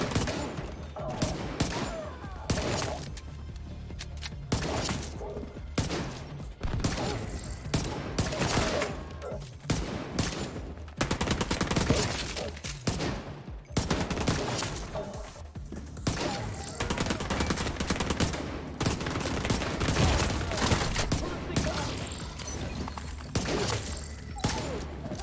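Rapid gunfire at a shooting gallery in The Division 2, dense volleys of shots in bursts with short pauses, loud and continuous over game ambience for the whole stretch.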